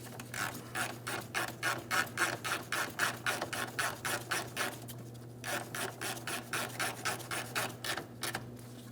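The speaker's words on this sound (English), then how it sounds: "continue on with your mounting nut along the rearward side. Start it in and snug it up." A ratchet wrench tightens the vapor canister bracket mounting nut on a 2007-2014 GMC Sierra 2500 HD 6.0L V8, giving fast, even, close clicking strokes in a steady rhythm with a brief pause midway.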